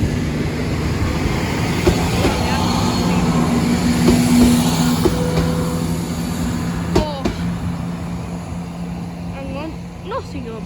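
A train rumbles past a level crossing at Sleaford West, a steady loud low drone with brief squeals and clanks, while people talk over it.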